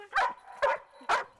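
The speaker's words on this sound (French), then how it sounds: "Il lui suffit maintenant d'aboyer." A search and rescue dog barks three times in a steady rhythm, short clear woofs spaced evenly and heard fairly close in an outdoor training exercise.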